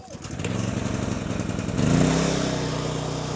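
An Efurden 4400 watt inverter generator engine starts after a brief pull, catching at once and rising to a steady, loud running drone close by, then settling into an even idle.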